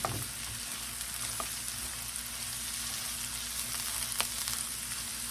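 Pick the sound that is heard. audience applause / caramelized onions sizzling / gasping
caramelized onions sizzling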